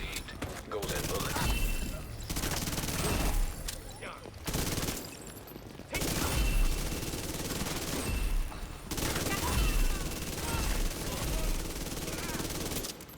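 Bursts of automatic gunfire in The Division 2 come in several loud, dense volleys separated by brief lulls, with voices talking in between.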